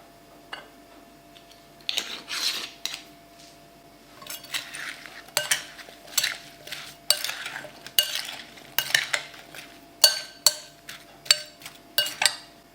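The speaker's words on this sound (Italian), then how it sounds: "aggiungo 40 g di zucchero di canna e mescolo" Apples being stirred in a pan with brown sugar and cinnamon for an apple strudel filling, a spoon scraping and clinking against the pan in a string of close, sharp, regular strokes over a low hum.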